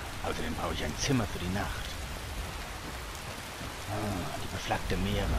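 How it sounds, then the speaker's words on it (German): Steady rain falls in the video game Skyrim as a constant wash of hiss filling the scene, with a voice talking over it throughout. "Ja, und da regnet es schon wieder."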